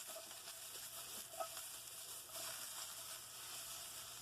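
Onions sizzle steadily in a hot pan for a curry sauce, a faint, even frying hiss with a few soft pops and stirring scrapes, no talking.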